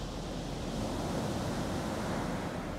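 Ocean waves wash steadily onto the beach at Vik, Iceland, a continuous broad roar of surf with some wind noise on the microphone, loud and unbroken throughout.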